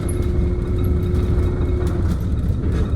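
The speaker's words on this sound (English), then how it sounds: "So once I get up to 30 miles an hour, you'll hear it shift." Electric Thomas C-2 Safetyliner Jouley school bus driving at around 30 mph, a steady close hum of motor and road noise with a faint sustained tone as the drivetrain shifts gear, no talking.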